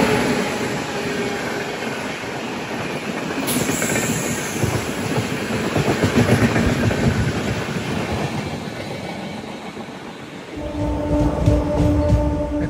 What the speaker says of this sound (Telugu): మంచు పొగలో సైలెంట్గా ఒక ట్రైన్ వచ్చేస్తుంది